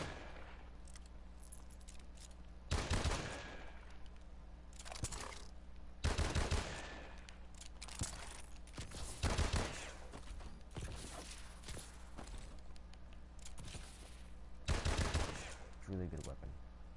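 A rapid-firing gun in a shooter game lets off several short, sharp volleys spread across the clip, each a quick cluster of loud cracks separated by quieter stretches with faint mechanical clicks.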